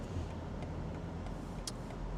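Faint, steady road traffic hums at a distance around a parked BMW 840i, a low continuous wash of passing car noise with one brief sharp click and no voices.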